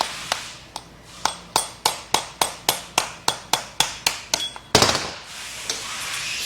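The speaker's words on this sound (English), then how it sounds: "I'm trying to punch the turbine wheel out of the center of the compressor wheel." Hammer blows punch a seized turbine wheel out of a turbocharger compressor wheel from a Case CX80 excavator: about fifteen sharp, evenly spaced metallic strikes ring out close and loud, followed by a clattering burst and quieter shop noise.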